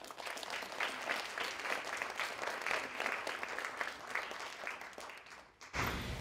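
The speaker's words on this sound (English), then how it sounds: "So we have a round of applause." A conference audience gives a sustained round of applause, a dense, even patter of many hands heard faintly from a distance for several seconds before it stops abruptly.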